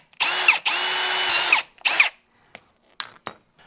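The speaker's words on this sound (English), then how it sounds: "Now all I got to do is just drill the hole that I need." A power drill bores holes in a copper pipe being made into a cable lug, in two loud sustained bursts with a shorter third, then a few brief sharp ticks and clicks as the bit stops.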